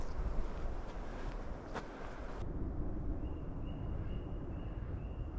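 Wind blowing through a woodland campsite, a steady broadband rush like gusts against a microphone, continuous for several seconds, with a faint high whine appearing partway through; no talking.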